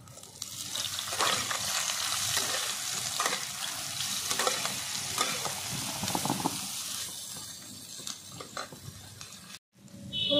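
Cauliflower fries in hot oil in a wok with a steady, dense sizzle and crackle, close up and continuous, with occasional stirring scrapes.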